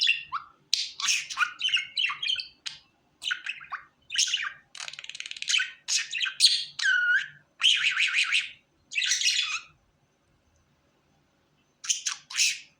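A pet budgerigar squawks and chirps in rapid, harsh bursts close up, with a few short pauses and a long silent gap near the end, and no talking.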